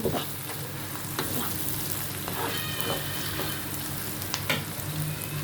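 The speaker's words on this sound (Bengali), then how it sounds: "এখন পেঁয়াজ আর কি ব্রাউন কালার করে ভেজে নিব এখানে তেল আর ঘি ইউজ করেছি আমি" Onions frying in oil and ghee until brown, a steady close crackling sizzle with occasional stirring scrapes and light pops, and no voices.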